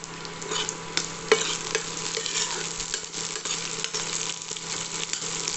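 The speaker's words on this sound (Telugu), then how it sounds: "ఆనియన్స్ వేసి కలపండి." Onions sizzle and fry in a pan while being stirred, a dense steady crackle with scraping stir sounds and one brief clink, close and fairly loud with no talking.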